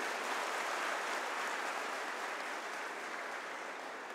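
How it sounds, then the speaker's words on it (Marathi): Audience at a Marathi Guru Purnima lecture in Sangamner applauding a speaker, a steady, distant wash of many hands clapping at low level, unbroken and without voices. "म्हणून एकदा जोरदार टाळ्या होत्या साहेबासाठी."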